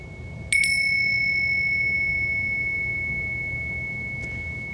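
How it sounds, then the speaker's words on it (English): A bell is struck in two quick strikes, and its bright, steady tone lingers and gently decays. A faint third touch comes near the end. "I'll just ring some bells"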